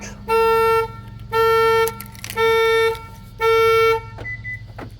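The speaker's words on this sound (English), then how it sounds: "Didn't know the alarm would go off just by pulling the door handle." A 2007 Hyundai Azera SE car alarm, set off by pulling the door handle, blares in four evenly spaced, loud honking blasts, each lasting about half a second, with a short beep at the end.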